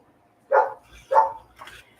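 A small dog yaps indoors, three short, sharp barks spaced about half a second apart, fairly close and moderately loud.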